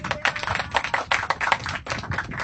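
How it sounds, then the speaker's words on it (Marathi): A church congregation claps together in a brief burst of dense, fairly loud applause, many hands beating at once with no speech over it. "स्वतःसाठी टाळ्या वाजवा"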